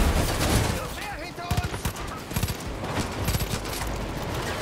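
Rapid bursts of automatic gunfire from the video game Far Cry 5, loud and close, firing in repeated volleys with short gaps, over a steady background of game noise and some voices.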